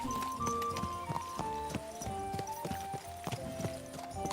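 Horse hooves clip-clop steadily in Kingdom Come: Deliverance 2, a regular walking rhythm of sharp, close hoof strikes over a busy background of in-game music and ambience.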